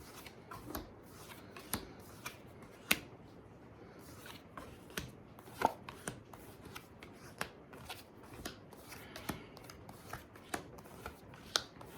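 Tarot cards being shuffled by hand, with repeated sharp riffles and soft slaps at an irregular pace, close and fairly quiet.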